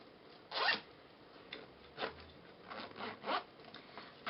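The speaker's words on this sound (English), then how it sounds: "So let me zip it up now." Zipper on a makeup brush set case being zipped closed in several short pulls, close and fairly quiet, with brief pauses between strokes.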